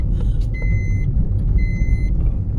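A Maruti Swift car is driven after a service, its engine and road rumble loud and close. Two short runs of repeated electronic beeps sound over the rumble.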